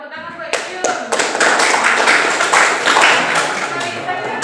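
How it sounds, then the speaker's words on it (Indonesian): A room of people claps for a presenter at the end of a chemistry engineering class presentation, a dense patter of hand claps starting abruptly and sustained close by with faint talk mixed in. "tepuk tangan buat Yuyun"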